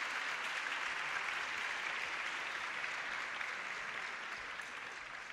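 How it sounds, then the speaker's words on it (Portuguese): Quiet, distant applause from an audience at a university medical school Hippocratic Oath ceremony, an even continuous patter of clapping with no breaks throughout. "Podem bater palmas."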